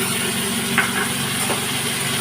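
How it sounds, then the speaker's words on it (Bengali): Spices and ground cumin sautéing in a pan, a continuous soft sizzle and hiss with a few faint scrapes of stirring, close and steady with no talk. "দিয়ে এটাকে খুব ভালো করে কষাতে হবে"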